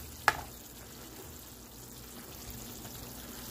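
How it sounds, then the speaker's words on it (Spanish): Chayote stewing with coconut in a pot gives a steady, quiet bubbling simmer with one sharp utensil knock near the start; no voices. "Miren cómo está hirviendo esto."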